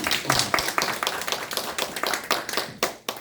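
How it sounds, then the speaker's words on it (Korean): An audience in a church discipleship class claps together, a close, dense burst of hand claps that continues steadily for a few seconds and then tapers off. "여러분, 박수."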